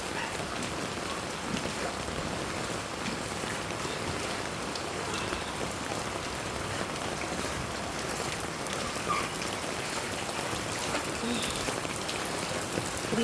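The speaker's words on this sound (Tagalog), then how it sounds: "Ganito yung sitwasyon namin pag tuloy-tuloy yung buhos ng ulan." A continuous downpour hammers a flood-prone neighborhood where the water has risen high, a steady, close hiss of rain striking surfaces that never lets up, with no speech over it.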